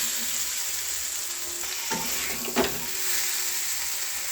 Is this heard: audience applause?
no